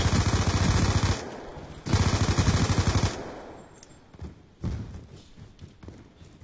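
Gunfire rips through a free-for-all match on the Hijacked map in Call of Duty Black Ops 2, with two loud sustained automatic bursts followed by scattered fainter shots and thuds.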